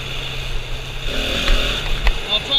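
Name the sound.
motorcycle riding through the woods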